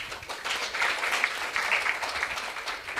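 Applause from a symposium audience honoring the Nigerian community in Cameroon: a moderate, steady patter of many hands clapping that swells and dips slightly across the stretch.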